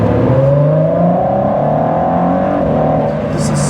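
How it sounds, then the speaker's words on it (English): Ford GT supercar engine revs hard under throttle, a loud continuous snarl whose pitch climbs steadily, sustained at close range with no talking. "let's give the Ford GT a little bit of throttle here"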